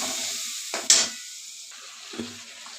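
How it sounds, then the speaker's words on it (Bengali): Spice masala with turmeric and water fries in a pan for an old-style rohu fish curry, a steady hiss broken by two sharp bursts of sizzle as it is stirred. "একটু মশলাটা জল দিয়ে দিলাম, হলুদ পরিমাণ মতন দিয়ে দিলাম। ভালোভাবে কষিয়ে নেব।"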